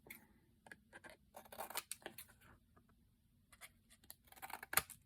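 Scissors snip at the corners of a woodland fairy junk journal board, giving quiet, scattered cuts and rustles with a sharper snip near the end, faint and close with no talk.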